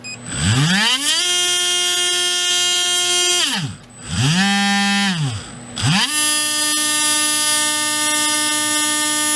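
A REDS Racing VX4 PRO stock 17.5T brushless RC motor spins up under a load test, its whine rising and holding in pitch, dropping away and ramping again three times, loud and close with no talk.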